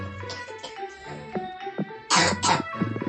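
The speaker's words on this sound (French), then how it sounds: "il vient de tousser" A few harsh, close coughs break out, the loudest pair near the end, with throat-clearing sounds before them.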